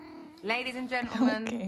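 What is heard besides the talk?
cat at the door asking to get back in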